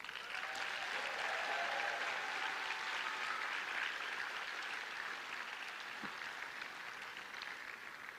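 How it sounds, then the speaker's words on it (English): A graduation ceremony audience breaks into sustained applause, a dense wash of many hands clapping that holds steady and fills the room for several seconds. "Class of 2022, please give them the applause they deserve."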